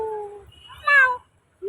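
A young girl imitates a cat's meow outdoors in a garden: a short mew, a brief pause, then a louder wavering meow and the start of another, all close and clear with no other talk.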